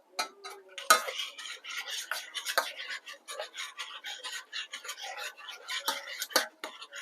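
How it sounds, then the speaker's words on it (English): A utensil stirs chocolate and sliced butter in a pot until they melt, making quick, close scraping and clinking strokes in an uneven rhythm, with no talking. "And stir that in until it melts."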